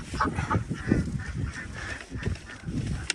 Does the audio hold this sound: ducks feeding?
yes